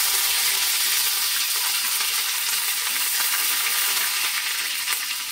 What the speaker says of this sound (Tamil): கறி லீவ்ஸ் பொரிஞ்ச உடனே